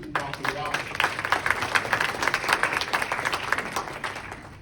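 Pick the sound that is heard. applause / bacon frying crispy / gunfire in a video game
applause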